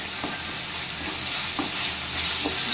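Tomatoes are stirred in a hot pan while making a cauliflower and pea kurma, with a constant sizzle broken by a few distinct spoon scrapes at regular intervals.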